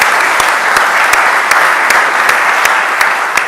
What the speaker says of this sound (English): I want to really give a great round of applause to the 1492 Society